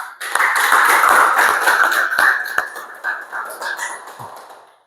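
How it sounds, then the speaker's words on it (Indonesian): A group claps for students in a classroom session, a dense burst of close hand claps that thins into scattered taps and fades out after a few seconds. "Tepuk tangan untuk mereka."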